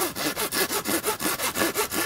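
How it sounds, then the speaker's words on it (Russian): Hand saw cutting through dry deadwood, steady back-and-forth strokes about every quarter second, close and fairly loud with a rasping, regular rhythm and no voices. "мы можем наблюдать, как она пилит"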